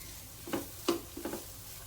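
Ginger, garlic and green chili are stirred in a pan for a mutton gravy: three soft scraping strokes from a spoon, close and faint over a light background sizzle.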